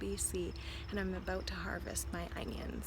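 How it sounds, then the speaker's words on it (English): Crickets chirp steadily in the background of a backyard on a Thursday morning while someone talks over them, the trilling faint but continuous under her voice. "You'll be able to hear the crickets in the background"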